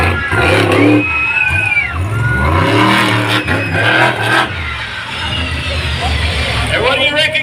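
Monster truck OUTBACK THUNDA's engine roars and revs at an outdoor show arena before jumping cars, loud and close, with surges in pitch and crowd noise mixed in throughout.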